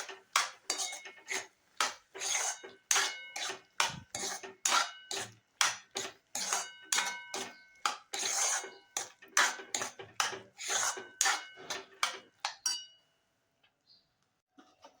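Sweet corn stirred into white sauce with a utensil, rhythmic clinking and scraping against the pot in quick repeated strokes, then a brief pause near the end, no speech.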